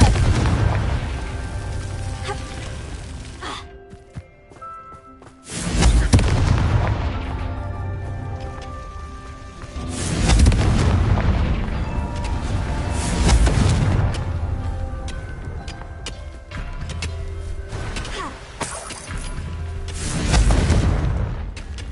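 Confringo blasting spells erupt as repeated deep booming explosions in the Hogwarts Legacy video game, several heavy blasts every few seconds, each rolling off into rumbling debris with game music underneath.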